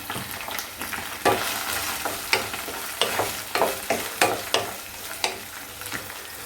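Ginger garlic paste and tomato sauté in a pan, a constant sizzle with regular sharp scrapes and taps of a spoon stirring the mixture, close and clear.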